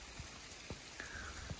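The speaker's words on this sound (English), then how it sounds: "This weird frozen rain stuff. It's not even like hail." Frozen rain like soft hail falls outdoors at a cabin site, sparse light taps and pattering at close range over a steady hiss, with no voices.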